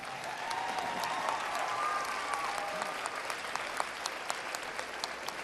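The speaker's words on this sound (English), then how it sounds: "Let's give them a round of applause." Steady audience applause at a middle school graduation ceremony, dense clapping from a large crowd held at an even level for the whole span, with a few sharper individual claps standing out near the end.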